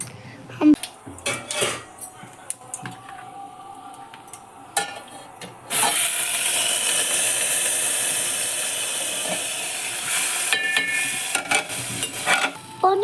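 Rice being tempered (baghar) in a pan in a home kitchen: a few utensil clinks and stirring knocks, then a loud, steady sizzle of frying that runs for several seconds before fading back to occasional scrapes.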